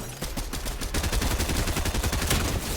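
A cannon fires repeatedly in a ranked video game boss fight, a rapid stream of loud, punchy blasts that blur into a continuous barrage and grow denser partway through.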